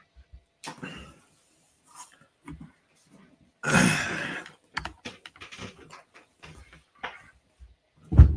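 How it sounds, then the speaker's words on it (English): A sticking computer keyboard gets sparse, scattered key presses, single close clicks separated by silences, with one louder, busier burst of rattling keys midway and a thump at the end. "My keyboard is sticking or something because I can't copy and paste the link."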